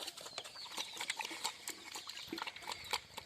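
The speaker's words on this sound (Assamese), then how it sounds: "এয়া বন্ধুসকল চাওক গাহৰিয়ে কেনেকৈ আধা খাই" A Hampshire-cross pig feeds on a farm, with quick wet chomping, snuffling and scattered clicks, fairly near but quiet, no talking.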